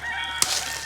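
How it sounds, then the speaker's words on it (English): A brief burst from a rooster, part of a crow, cuts in sharply, loud and near, with no talking. "Got a crazy rooster running through the woods."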